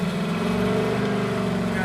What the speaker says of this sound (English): Go ahead, rev it.